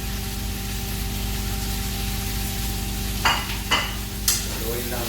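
Eggplant stir-frying in a pan of tuna paksiw, a constant close sizzle broken near the end by three sharp scraping stirs of a spatula, with no talk.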